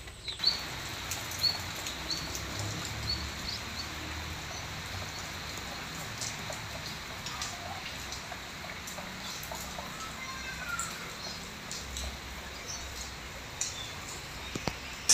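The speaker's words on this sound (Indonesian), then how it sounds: "Oke guys, hujan. Aku mau pulang. Ini gerimis." Light rain patters softly and continuously on surfaces outdoors, a faint steady drizzle with occasional louder drops.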